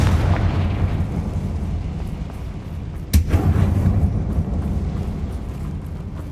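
A blasting-curse explosion in a mine resembling a tomb in Hogwarts Legacy, a single sharp burst that cuts through a low rumbling ambience and leaves a lingering roar afterward.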